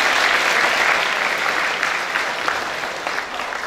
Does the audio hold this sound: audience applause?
yes